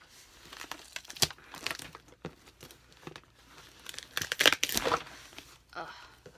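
Paper packaging crinkles and tears in a few bursts, loudest near the end, with a person speaking quietly around the ripping.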